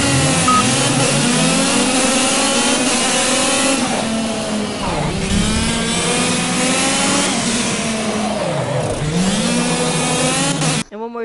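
Go-kart engine from the racing video game Project Cars, revving and buzzing loudly and continuously, pitch rising and falling with each gear shift and corner.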